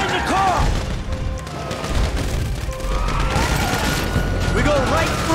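Bursts of rapid gunfire crackle through a dense, noisy Grand Theft Auto V soundscape during a heist shootout, with overlapping shots and booms rather than clean single reports.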